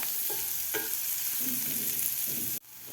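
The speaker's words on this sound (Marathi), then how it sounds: "कांदा आपल्याला एक दोन मिनिट व्यवस्थित फ्राय करून घ्यायचा आहे" Chopped onion frying in a pan for a couple of minutes, a steady broadband sizzle with a few brief clinks and scrapes from stirring, close and continuous before cutting off abruptly near the end.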